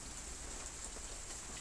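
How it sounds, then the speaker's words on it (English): Steady rain falls in California, a dense even hiss of drops hitting surfaces with no gaps, close and moderately loud, heard alone without voices. "I just enjoy just hanging out here listening to the rain"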